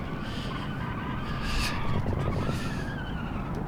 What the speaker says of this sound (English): I don't know how much you can hear the tires crying behind me